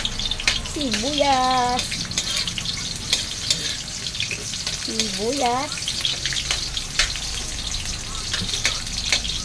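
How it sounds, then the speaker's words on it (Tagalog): Onions sizzling in a hot frying pan, a continuous close crackle with stirring clicks, while someone talks briefly over it at moments. "Lagay ko yung aking sibuyas lang yan."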